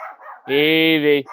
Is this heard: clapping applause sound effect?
no